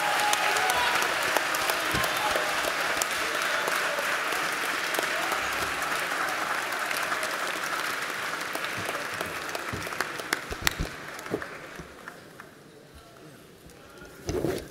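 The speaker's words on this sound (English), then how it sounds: "another round of applause for His Excellency Nana Addo Dankwa Akufo Addo" Sustained crowd applause for Ghana's president Nana Addo Dankwa Akufo Addo at a town hall meeting, dense steady clapping from a large audience that thins and fades toward the end.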